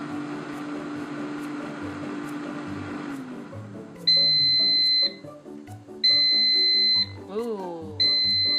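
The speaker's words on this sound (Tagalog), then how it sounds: "Nag-alarm na, tapos na yung niluluto natin." A cooking appliance's alarm sounds as dinner finishes, three loud high-pitched beep bursts about a second long each, repeating at regular intervals over low kitchen hum, with a voice speaking between them.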